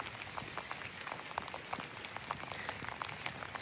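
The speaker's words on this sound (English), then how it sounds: "All right, it's raining a lot." Heavy rain falls outdoors in a steady, dense patter of drops hitting surfaces, a continuous wash of sound with scattered louder splashes and no voices.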